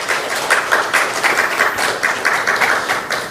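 A congregation at a Korean church worship service claps in welcome, a steady, dense burst of applause from many hands at moderate distance that holds evenly throughout.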